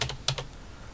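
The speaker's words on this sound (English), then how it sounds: "now when I click on search" A mouse click on a web page's search button, heard as a few sharp, close clicks in quick succession over a quiet room, with no talking.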